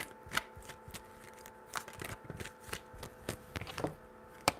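Tarot cards being riffled and shuffled by hand, a quick run of crisp papery flutters and soft taps, fairly close and clear with no talking over it.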